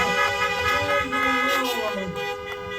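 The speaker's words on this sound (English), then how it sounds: "let me hear a honk" Several car horns honk together at an outdoor drive-in church service, in overlapping loud toots of different pitches that sound continuously for a few seconds.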